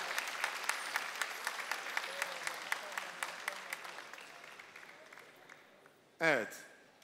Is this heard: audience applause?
yes